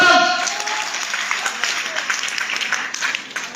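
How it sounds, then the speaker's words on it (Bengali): A seated audience claps together in a loud, dense burst of applause that runs steadily for several seconds, dipping slightly near the end, with voices mixed in underneath. "একটা জোরে হাততালি মারো"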